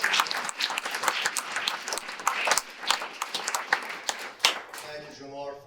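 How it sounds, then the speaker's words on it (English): A ceremony audience at a university social justice award event claps in a dense round of applause that swells and fades, with a few sharper claps near the end. "One more round of applause, please."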